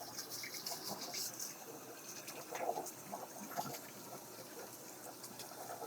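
Water runs at a sink while a faucet brush scrubs the inside of a disassembled draught beer faucet, a steady faint trickle and splash with light irregular brushing clicks throughout, no talking.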